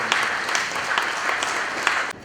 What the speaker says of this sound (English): with a round of applause, shall we welcome Professor Ruth Swami.